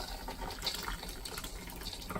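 Water rushes steadily through a camping trailer toilet line, a continuous close hiss and gush with no break.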